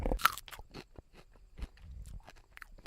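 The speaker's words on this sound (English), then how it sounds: "And this is a rattlesnake pole bean I just pulled off. You could hear that pop noise maybe." Quiet, crisp snapping and crunching close by as a rattlesnake pole bean is pulled off the plant and pops, with small rustles in between.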